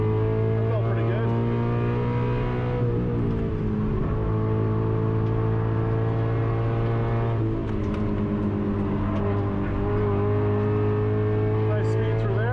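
Porsche GT3 engine on a wet race track during a track day, a loud, continuous in-car roar rising and falling with the throttle, with gear changes and the driver talking over it.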